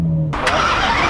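A Ferrari F12 Berlinetta's 6.3 litre V12 starts with a short starter whine that gives way to a loud, close engine bark and rumble settling into a rough idle.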